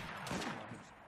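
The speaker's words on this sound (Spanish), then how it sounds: "Parecía un segundo disparo." A single gunshot in the Assassin's Creed Syndicate video game, a brief faint distant crack with a short echoing tail.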